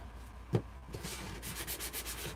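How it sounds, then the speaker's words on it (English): Rough rasping strokes of a sanding block rubbing on wood, quiet and close, with a small knock early on and a quickening rhythm later. "I'm going to sand a little bit on the top of this, just so we don't have any loose wood"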